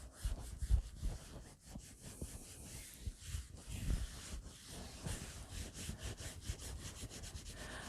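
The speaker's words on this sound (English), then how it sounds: "we're going to rub gently along the rainbow." Felted wool rainbow rubbed gently by hand, a soft, steady, quiet scratchy rubbing with repeated strokes close by and no talk.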